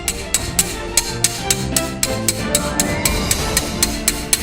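A hand hammer taps a gold or silver piece at steady, even intervals to engrave a pattern into its surface. The crisp metallic strikes repeat about twice a second over a constant background hum.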